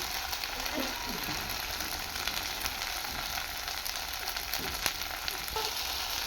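Tomato goes into masala frying in a pan for butter chicken curry. A dense, continuous sizzle is broken by scattered scraping and clicking from stirring, close and busy throughout.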